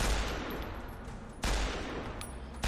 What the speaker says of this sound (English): I thought it was an automatic rifle the way that it looked, but I guess it's just single fire